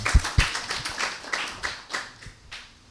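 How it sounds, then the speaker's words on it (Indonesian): Audience clapping for a guest at an Indonesian mosque talk event, a short burst of sharp, fairly close handclaps that thins and fades over a few seconds. "Sekali lagi tepuk tangan yang meriah buat Mas Bejo"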